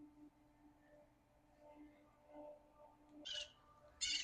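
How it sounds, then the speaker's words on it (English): Faint birdsong in a quiet outdoor setting: soft scattered calls, then two brief, brighter chirps near the end over a low hum. "Listen to the lovely birds."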